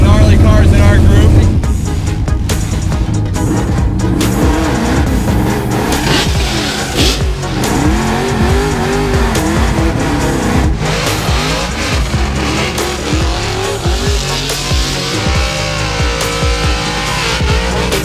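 A race car blasts fast up the hill at Goodwood, its engine loud and close with rapid revving, gear shifts and tire squeal, under a roaring, shifting drone.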